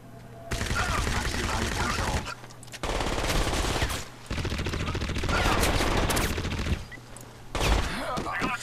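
Loud automatic gunfire in the video game Crysis, fired in several long, dense bursts separated by short pauses, with close, harsh rattling shots filling most of the stretch.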